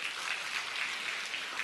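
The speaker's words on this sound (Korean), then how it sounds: "박수 한번 쳐주십시오." A room of parents at a talk on raising teenagers applauds, the steady crackle of clapping sitting fairly faint and even throughout.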